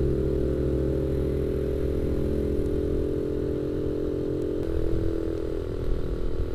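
A GazGas Gorila 110 motorcycle climbs an uphill road near Puncak Bogor. Its engine drones steadily and close by with a constant mechanical clatter, and no voices are heard.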